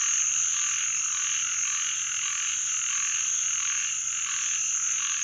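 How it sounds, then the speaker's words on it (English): A dense chorus of frogs croaking at night in a flooded backyard, a continuous high-pitched trilling wall of calls, steady and fairly loud with no speech. "Listen to these frogs."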